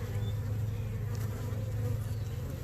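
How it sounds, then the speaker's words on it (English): Honey bees buzz at a hive during an inspection, a dense continuous drone close to the microphone that holds steady throughout with no voices. "look at that little bee coming out"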